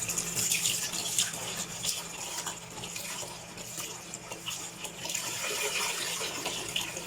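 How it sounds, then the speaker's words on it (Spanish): An opened tap in a heat-and-waves physics lab pours a steady, fairly loud stream of water for several seconds, a continuous splashing rush with no pauses and no voices. "abrimos la llave del agua y colocamos la pelota colgando a una distancia considerable"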